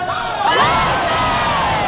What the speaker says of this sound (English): With a Wegmans cheer,